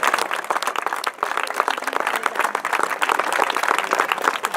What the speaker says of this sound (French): Ils méritent tous nos applaudissements.